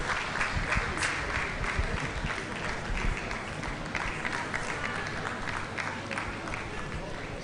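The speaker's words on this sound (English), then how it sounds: "Please let's give her a round of applause" A seminar audience gives a dense, sustained round of applause, many hands clapping at once in a steady wash at moderate loudness, with a voice faintly audible beneath it.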